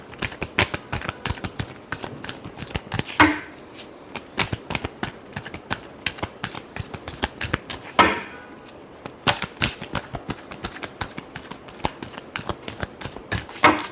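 A tarot deck is shuffled by hand at close range, with rapid rhythmic card flicks and snaps running almost throughout and brief riffle bursts near the 3- and 8-second marks.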